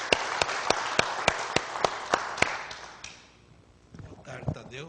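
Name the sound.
applause in church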